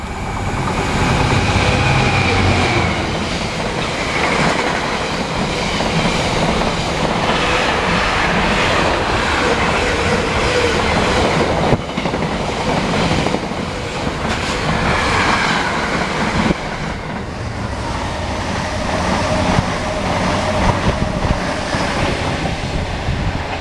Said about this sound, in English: 3 or 4 minutes and we've got another freight